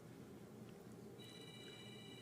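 A mobile phone ringtone chirps during a church sermon, a thin repeating electronic ring sounding faintly over the hum of a large room, with no talking.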